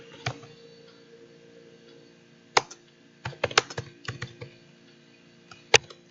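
Typing on a computer keyboard: scattered, sharp key clicks in short bursts with pauses between, close and fairly quiet, no talking.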